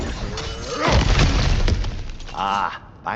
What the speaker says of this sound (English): back to smashing through things for fun and profit